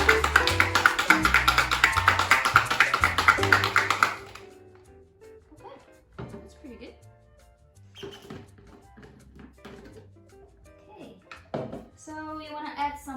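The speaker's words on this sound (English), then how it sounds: "And then shake it." A closed cocktail shaker packed with ice and a big chunk of ice is shaken hard at home while making a minty drink, giving about four seconds of loud, dense rattling. It then stops and is followed by quieter talk and scattered taps.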